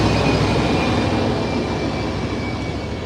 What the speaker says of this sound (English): the Greenbush train, right on time.